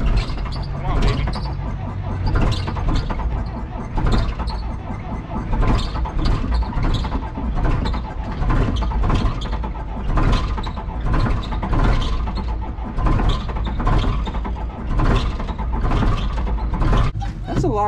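Caterpillar wheel loader engine from an auction purchase, a machine with serious faults, turning over and catching, a steady loud diesel rumble with repeated pulsing bursts as throttle rises, under occasional talk.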